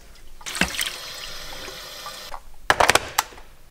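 Water pours in two bursts for coffee in a home kitchen, a steady trickling splash filling a vessel for almost two seconds, a short pause, then a brief louder spattering pour, close and alone.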